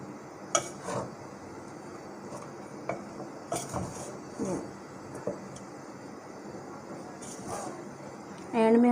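Besan halwa stirred in a pan with a metal spoon: scattered scraping clinks and taps against the pan at irregular intervals, fairly quiet, with someone talking over it.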